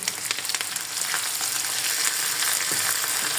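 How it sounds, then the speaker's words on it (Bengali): Shrimp sizzle steadily in a pan with onions and cumin, a loud, even hiss of frying with faint stirring and no talk. "চিংড়ি মাছগুলো দিয়ে ভালোভাবে একটু নেড়ে ছেড়ে ভেজে নিব"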